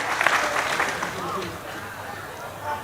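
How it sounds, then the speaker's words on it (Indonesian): A congregation at an Islamic study gathering applauds for Desa Merden, a loose burst of clapping and crowd murmur that fades under talk and background babble. "Tepuk tangan dulu semuanya buat Desa Merden."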